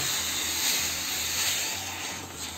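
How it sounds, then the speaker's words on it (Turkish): A Fakir steam generator iron releases a continuous, loud hissing jet of steam that runs unbroken for the whole stretch, with a faint low hum beneath it. "Bakın bu mesafeye buhar yutabiliyor."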